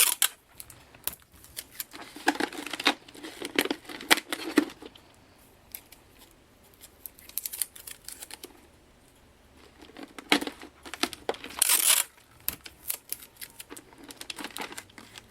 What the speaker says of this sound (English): just take some tape and kind of just go right back over where we opened that flap up to kind of seal it up